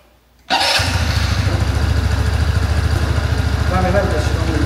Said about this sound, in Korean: 시동을 걸어보고 한번 출동해 보도록 하겠습니다